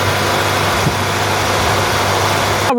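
Car engine with a dead battery, running after a jump start from a Gooloo GT6000 jump starter, holding a steady, loud idle throughout with no talking.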